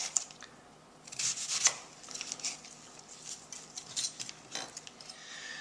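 A knife slices a vegetable into thin rounds on a cutting board for cream of mushroom soup, giving a quick series of crisp taps and scrapes, close and fairly quiet, with no talking.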